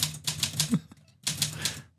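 A typewriter clacks in quick bursts of keystrokes, close and loud, with a short pause mid-stretch before typing resumes.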